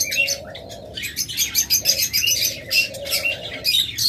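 Pet shop birds, including lovebirds, budgerigars and cockatiels, chirp and chatter in a dense, continuous chorus close by, with shrill tweets overlapping throughout.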